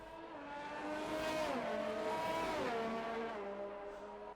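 Touring race cars, an Alfa Romeo among them, racing at a Montreal circuit, engines revving loudly with pitch rising and falling through gear changes, a continuous close roar.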